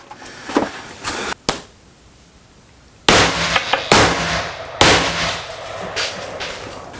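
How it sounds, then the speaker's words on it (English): A rifle fires 55 grain Gold Dot rounds through interior glass, giving several sharp, loud cracks with short ringing tails, separated by quieter gaps and some smaller clanks. "All right, so he shoots through the glass right there."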